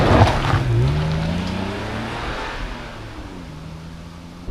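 A Honda NSX sports car accelerating, its engine note sweeping upward through the gears, steady and fairly close, with no talking.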